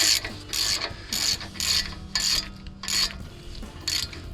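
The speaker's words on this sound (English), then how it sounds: "I'm holding the socket up, just confirming that post is not spinning." Socket ratchet tightening a tie rod on a Jeep Wrangler JK, a close, crisp run of about seven rapid clicking bursts in steady rhythm, no talk.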